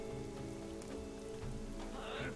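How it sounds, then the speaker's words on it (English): Rain patters softly and continuously in the strategy game Northgard, sitting under the game's music and occasional effects with no voices over it. "We're going to do this in the rain."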